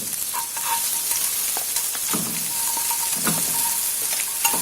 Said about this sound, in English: just fry these eggs until they are nicely coated with the spices